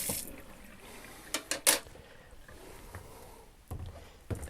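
Tap water runs as a tray is rinsed in a darkroom sink, with a steady splashing wash broken by a few sharper clatters and splashes close by.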